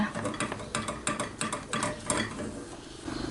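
A spoon scrapes and clatters rhythmically against a pan while stirring custard filling, repeated stirring strokes up close with no talking.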